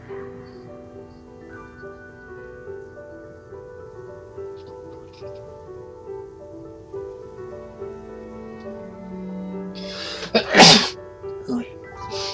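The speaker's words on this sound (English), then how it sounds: "I apologize for sneezing" A single sharp sneeze bursts out near the end, loud and close, followed by a smaller sound, over a quiet, steady musical background with no talk.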